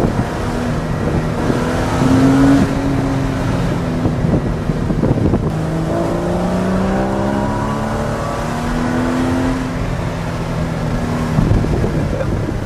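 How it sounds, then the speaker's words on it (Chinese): A Porsche Cayman S with a naturally aspirated 3.4-litre engine and PDK gearbox, driven on the road in Sport Plus mode, heard from inside the cabin: a loud, steady engine drone with rising and falling tones as it accelerates and shifts, plus wind noise. "现在呢我们要进行 Cayman S 的道路试驾"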